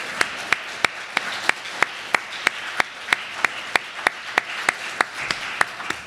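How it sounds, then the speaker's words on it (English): An audience applauding students at a forum, though the sound here is a sparse, evenly spaced run of single hand claps, about three per second, over quiet room tone with no voices. "Give them a round of applause."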